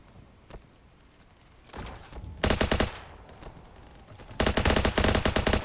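Rapid automatic gunfire rattles out in two long, loud bursts in the video game Ancient Warfare 3, with quieter single shots and clicks before them.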